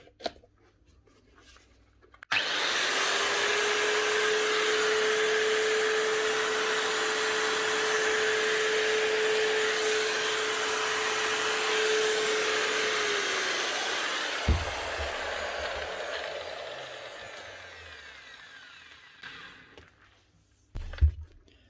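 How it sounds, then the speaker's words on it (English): A Hitachi G23 SR 9-inch angle grinder, just fitted with new brushes, spins up with a steady high whine and motor hum, runs for about twelve seconds, then winds down after a clunk, followed by a few handling knocks. "One Hitachi G23 SR 9-inch grinder. Up and running again."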